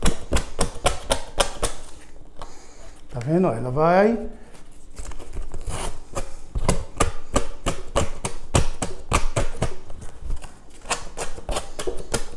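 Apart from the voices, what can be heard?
sandpaper sanding off an edge until flush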